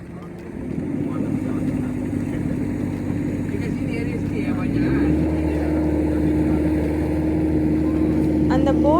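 A boat engine on an island-hopping trip off Langkawi drones steadily, its pitch rising as it is revved around the midpoint, then holding a higher, louder tone until the end, with no talk.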